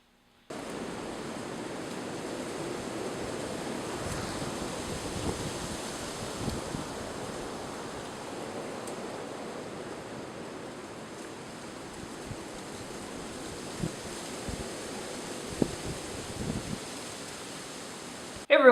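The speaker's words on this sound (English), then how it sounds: "I was thinking about doing this video outside, but it's super windy." Strong wind outdoors, a continuous broadband rush and buffeting against the microphone, steady for nearly twenty seconds with occasional sharper gusts and no speech.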